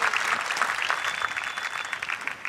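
Dense, steady applause from a large crowd at the Ford Mustang 2023 world premiere at NAIAS 2022, with scattered whistles and cheers running throughout, fairly loud and close.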